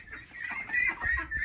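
Hens in a coop shared with seven chickens and a few ducks cluck steadily at close range, a busy overlapping chatter of short calls with no talking.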